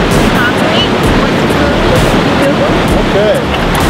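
Rushing river water near Athabasca Falls, a steady, broadband roar that fills the whole clip, with faint wind and a few chirps over it.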